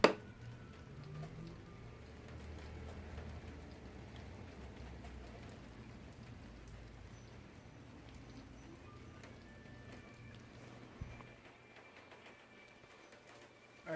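Rain falls outside a parked Audi as a faint, continuous patter and hiss, with occasional louder drips and soft knocks.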